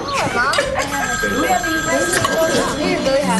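A telephone rings with a warbling bell tone through a busy, loud mix of overlapping voices talking.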